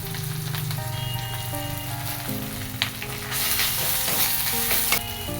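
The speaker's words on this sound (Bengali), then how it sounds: "একটু জল দিয়ে মশলাটা কষিয়ে নেব" Masala spices with a little water sizzle and fry hard in a hot pan, a steady close hiss with occasional stirring scrapes and clinks, no voices.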